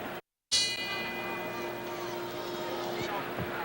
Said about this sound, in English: And now the bell for round 6.